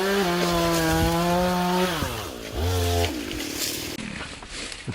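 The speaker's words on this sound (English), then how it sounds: "hires yet another guy to go into Maumau with a chainsaw" A chainsaw cuts hala trees in the Maumau grove at Waiakahiʻula, Hawaii. Its engine drones loud and steady, then dips and shifts pitch partway through before settling into a rougher running noise.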